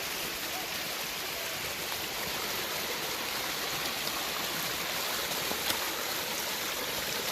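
A waterfall fed by a pond on a homestead, dropping straight down and putting out about a million gallons a day, roars as a steady, even rush of falling water with no break.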